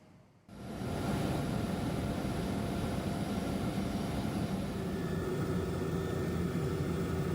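An Indonesian Air Force helicopter flies over flood- and landslide-damaged areas of Sibolga and Tapanuli, its engine and rotor making a loud, steady, close roar that starts abruptly after a quiet moment and holds for the rest of the clip.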